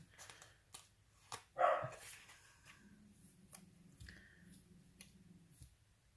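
Dogs bark indoors in a quiet room: a few short, distant yips and one louder bark, scattered among soft clicks and rustling.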